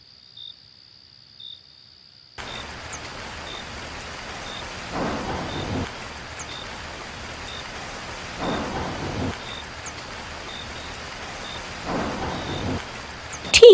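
Steady rain hisses in a cartoon scene, broken by three deep thunder rumbles at regular intervals, with crickets chirping throughout and no voices.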